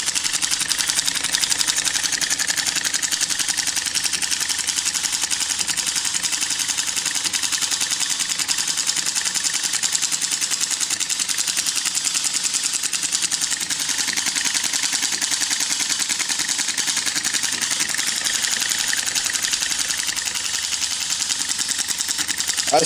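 A homemade solenoid engine runs on 36 volts with a fast, even, buzzy clatter of rapid repeated strokes, loud and constant throughout with no breaks.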